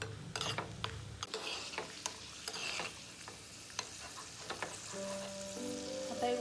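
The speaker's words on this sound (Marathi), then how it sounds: "तर ते तळून घ्यायचे तुपामध्ये" Dry fruits frying in hot ghee give a steady close sizzle, broken by sharp scraping clicks of a spoon stirring them through the pan, with a faint tonal hum rising near the end.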